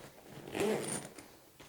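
A zipper pulled closed on a Pioneer Duration backpack with a portable mechanical keyboard in its back section, one short quiet zip near the microphone.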